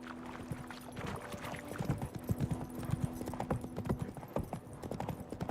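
Roach, the horse in The Witcher 3, clip-clops along at a steady walking rhythm, hoofbeats close and clear over a low ambient game backdrop, with a faint voice briefly present.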